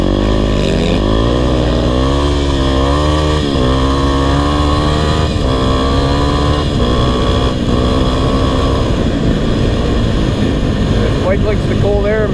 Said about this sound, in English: Bike likes the cold air, man, I'll tell you that. His bike ripping too.